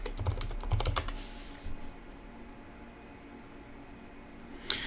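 A computer keyboard is typed in a quick burst of sharp key clicks at the start, then a few scattered taps, before quiet room hum and a final click.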